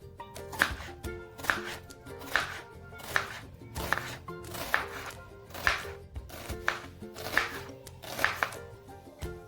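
A knife slices onions lengthwise on a board for dum aloo, about ten evenly spaced crisp chops at a steady rhythm, close and fairly quiet.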